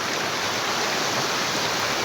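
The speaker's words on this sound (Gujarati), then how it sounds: "પાણી જાય ઈ જો" Water rushing steadily after days of heavy rain near a village pond and wells, a dense, unbroken broadband roar filling the whole moment at close range, with no voices.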